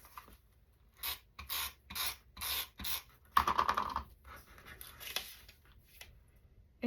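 A repositionable tape runner is pulled across scrapbook paper in a series of short rhythmic rasping strokes, followed by a rubbing and scraping passage, close and fairly quiet, no talk.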